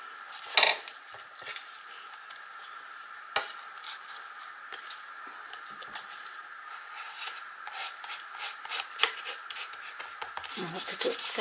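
Paper being rubbed flat onto an art journal page with a loyalty card: a light scraping rub with repeated soft strokes and small taps, fairly close and quiet, with no talking.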